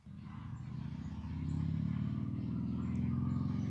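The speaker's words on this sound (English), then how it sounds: "Somebody's on a motorcycle." A motorcycle goes by near an outdoor firewood-splitting spot, its low engine rumble steady and swelling louder midway, then holding strong to the end with no talk over it.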